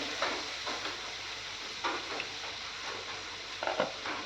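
Soft sizzle of onions frying in a pan, with a few scraping stirs of a spoon against the pan; fairly quiet, no talking.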